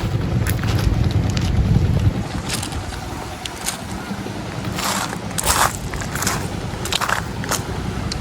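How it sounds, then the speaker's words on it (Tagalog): A wooden fishing bangka arriving back from sea after a tuna catch, its motor and hull noise half buried under heavy wind buffeting, with a few sharp knocks and splashes and no voices. "Dating na ang bangka."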